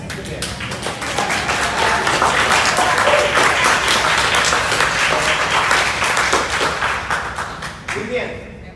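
A room full of people at a business mentoring seminar applauding steadily for several seconds, dense clapping that fades toward the end, with some voices mixed in.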